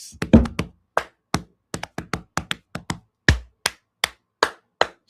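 A go-go rhythm drummed by hand on a tabletop: a steady run of sharp, close knocks and slaps in a syncopated pattern, with one heavier thump near the start, played alone without talk.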